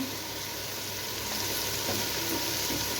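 Chili and turmeric powder spices frying in a pan for a chicken masala, a steady dense hiss of sizzling oil at moderate volume with no talking.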